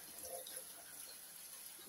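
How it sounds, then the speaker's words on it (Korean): Water runs from a kitchen sink tap, turned down low, as it showers the leaves of a potted houseplant. The flow makes a faint, steady hiss with a gentle splashing texture. "물살이 너무 세면 줄기가 꺾일 수 있으니까"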